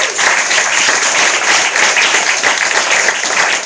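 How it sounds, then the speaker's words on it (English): An audience gives a panel a rousing round of applause, loud, dense and steady clapping from a crowd, sustained without a break from start to finish. "Our panel, please give them a rousing round of applause."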